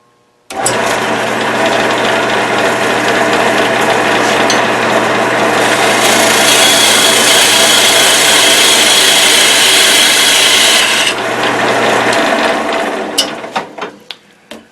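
A parting tool cuts into wood spinning on a lathe, a loud, steady whirring rasp that holds for about twelve seconds and then fades out into a few scattered scrapes.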